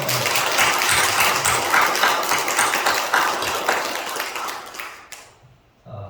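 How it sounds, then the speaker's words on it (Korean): A church congregation in Venice, Florida claps for a new confirmed member: brisk, fairly loud applause with an uneven rhythm that tapers and cuts off near the end. "큰 박수로"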